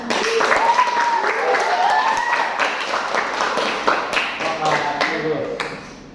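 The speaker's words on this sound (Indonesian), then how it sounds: "Mari kita berikan tepuk tangan yang meriah." Students in a group counselling class break into lively applause after a role-play, a dense patter of many hands clapping nearby that gradually tapers off, with voices mixed in.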